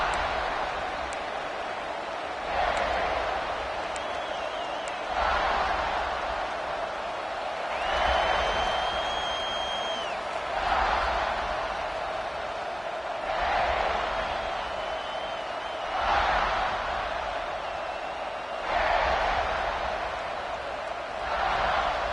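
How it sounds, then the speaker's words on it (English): A large stadium crowd at an American football game roars in steady, surging waves, loud and continuous, with occasional whistles rising above the din. "Listen to the crowd energy here in the early going."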